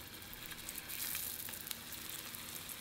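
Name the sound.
scallion pancakes pan frying in avocado oil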